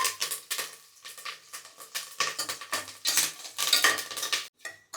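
Onions sautéed with dried red chillies and curry leaves while making Kerala nadan puzhukku, a spoon or ladle scraping and clinking against the pan in quick irregular strokes over a light sizzle, close up, with no talking.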